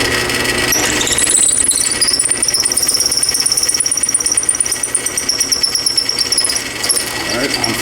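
A 1/4 inch hole is drilled through a scalloped pen blank, a steady high squealing whine of the bit cutting for several seconds, fairly loud and close, with rattly chatter underneath and the tone fading near the end as it breaks through.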